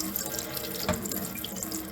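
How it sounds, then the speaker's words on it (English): Water pours steadily from a homemade DIY watering jug in a garden, a continuous close splashing stream like a running tap, with no voices over it. "Let the water come out."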